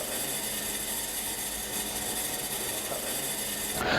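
A Bosch ACS series A/C service unit fills its refrigerant tank with a continuous loud mechanical whir and rattle, a steady hiss running throughout and rising slightly near the end.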